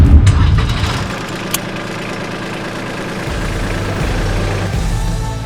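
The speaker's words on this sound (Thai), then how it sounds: "เครื่องยนต์ดีเซล Indirect Injection 3สูตร" An Iseki NTZ227 tractor's three-cylinder indirect-injection diesel engine cranks and catches, then settles into a loud, low, rumbling idle that stays steady and close.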